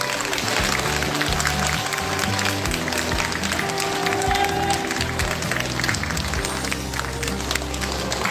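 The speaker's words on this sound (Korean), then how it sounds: "큰 박수로 맞이해 주시기 바랍니다." Audience applause greeting a district head as he enters a community centre event in Dong-gu, Incheon, sustained and steady under music-like tonal sounds throughout.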